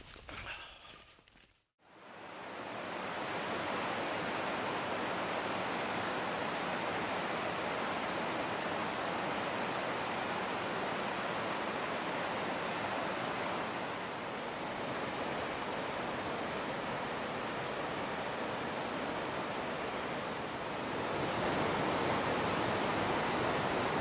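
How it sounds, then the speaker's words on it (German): Water rushes down through a mountain gorge in a steady, dense roar that stays near and unbroken for over twenty seconds after a brief quiet start, with no voices. "wie dieses Wasser durch die Schlucht da runter gestürzt ist, das war schon spektakulär"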